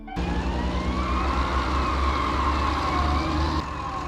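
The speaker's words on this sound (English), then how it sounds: "the sirens are always on when you're driving" A fire truck siren in a city-building game, loud and continuous with wailing rising and falling tones over a low engine drone. The siren runs alone and drops slightly in level near the end.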